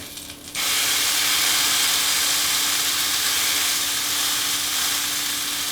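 Well-seasoned pork loin dropped into a hot pan, bursting into a loud, continuous close sizzle that holds steady for several seconds.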